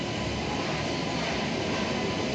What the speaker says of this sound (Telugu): మందే ట్రైన్ 1వ నెంబర్ ప్లాట్ఫామ్ మీదకి తీసుకొస్తున్నారు.